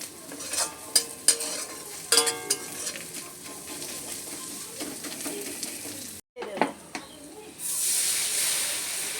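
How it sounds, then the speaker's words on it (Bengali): Crushed ginger and garlic being stirred in a hot pan while making Maggi Manchurian: scraping, sizzling strokes with sharp clicks, a brief pause, then a steady loud hiss of frying. "হালকা নাড়াচাড়া করে নেব।"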